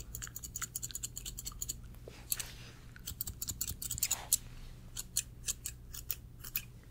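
Rapid, crisp snipping of scissors through hair in a barber shop, in quick irregular bursts close by, with a low steady hum underneath.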